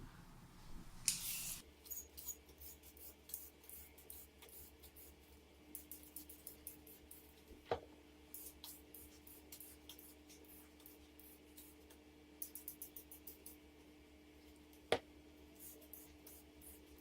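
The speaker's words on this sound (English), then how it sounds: "Jeremy is all about peeling them carrots" Quick scraping strokes of a peeler stripping carrots in a home kitchen, a steady run of short rasping bursts at close range with a few sharper knocks between them and a faint background hum.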